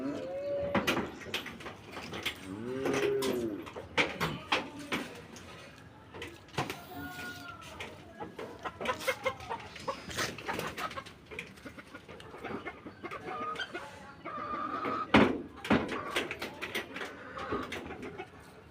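Chickens cluck and call in a farm setting, several birds making intermittent, irregular clucks and squawks at moderate distance, with scattered clatter and occasional voices.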